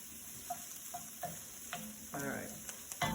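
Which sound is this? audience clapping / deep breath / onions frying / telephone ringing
onions frying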